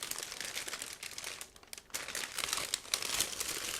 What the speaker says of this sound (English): Remove it out of the plastic bag